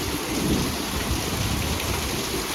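A strong nighttime thunderstorm with gusty winds pours heavy, steady rain, mixed with a deep rumble of thunder, loud and continuous throughout.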